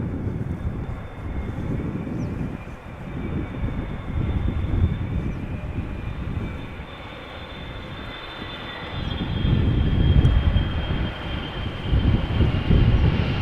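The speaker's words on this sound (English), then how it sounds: "This is Boeing 777-300ER arriving from Sao Paulo after, mind you, 11 hours and a minute already." A Boeing 777-300ER landing at Amsterdam Schiphol Airport after a long flight from Sao Paulo gives a steady, loud jet roar that swells and fades over the whole stretch, with wind buffeting the microphone.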